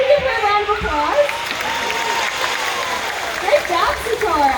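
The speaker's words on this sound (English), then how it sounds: "Can we give her a round of applause?" An audience at a seal show at an aqua park claps in a loud round of applause that rises and falls over several seconds, while a presenter talks over it and the background is full of crowd noise.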